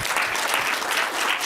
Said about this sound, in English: Give a warm applause to Mats.